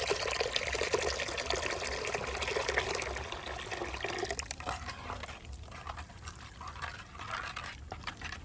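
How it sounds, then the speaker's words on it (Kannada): Tender coconut water pours steadily into a pot for a chilled payasam, a close, continuous splashing rush that thins toward a softer trickle. "ಈಗ ಬೊಂಡದ ನೀರನ್ನು ಹಾಕುವ."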